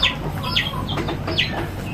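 A Bantam hen clucks in a farmyard, giving several short, bright clucks spaced through a steady background of ambient noise.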